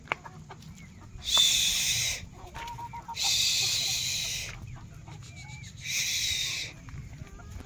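Hens on a farm give three loud bursts of clucking and squawking, each lasting about a second or so. Quieter gaps and a low rumbling background fall between the bursts, and no one speaks.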